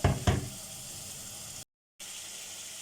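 Chicken tipped into a hot pan and mixed for achar gosht, two loud clattering thumps followed by a steady hiss of sizzling, with a brief cut to silence before the sizzle resumes.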